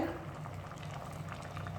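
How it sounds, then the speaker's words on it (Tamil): A pressure cooker of radish sambar bubbles and simmers with a soft, steady gurgle, ending in a brief louder clink. "நல்லா கொதிக்குது பாருங்கள்"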